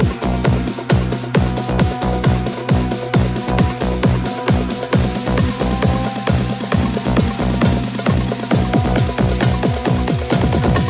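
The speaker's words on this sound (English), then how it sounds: "I managed to keep few more percussions and also the transition build up, so it's kind of sounds like this." Indian trance percussion from FL Studio with kick and snare stacked into a transition build-up, a loud driving pulse whose layers thicken and brighten midway through.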